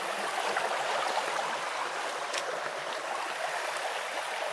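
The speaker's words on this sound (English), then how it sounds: "There's some water weaving its way" Water from a stream flows steadily beneath a footbridge on a countryside walk, a continuous close rushing and trickling with no voices over it.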